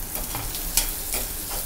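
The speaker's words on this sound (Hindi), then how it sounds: "दो मिनट प्याज सेक लें।" Chopped onions sizzle steadily in a hot pan for Indori poha while a spoon stirs them, giving soft scraping swishes over a continuous frying hiss, close and with no talking.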